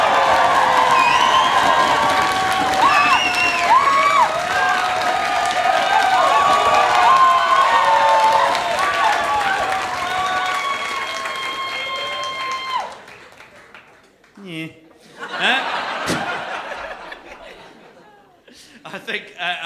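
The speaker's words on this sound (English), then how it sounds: "please do clap your hands, stamp your feet, go wild," An audience at an online comedy contest show cheers, whoops and shouts in a loud, sustained crowd roar with voices calling over it, then the noise drops away and a presenter talks in the final seconds.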